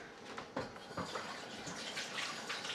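Hands being washed under a running tap in a kitchen, a steady splash of water with uneven rubbing and dripping bursts, moderately close and fairly quiet.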